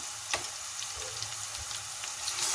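Onions frying in a pan for mutton cucumber curry give a soft steady sizzle with light occasional crackles and a brief clink, close and quiet, with no talk.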